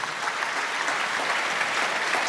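A church congregation applauding during a sermon: steady, dense clapping from many hands, sustained and fairly close, with no breaks.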